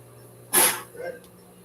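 A single sharp sneeze bursts out close by, followed by a softer, brief vocal sound.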